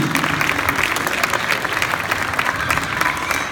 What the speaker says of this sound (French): Tenez, on les applaudit.